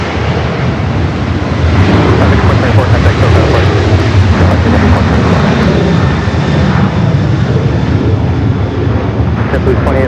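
A Delta Boeing 767-300ER airliner, in from Atlanta, taxis slowly toward its terminal gate at LAX, its engines a loud, steady, broad roar that holds close throughout, with voices talking over it.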